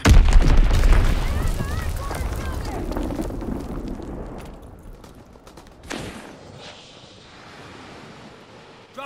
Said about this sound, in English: Dropping Azon bomb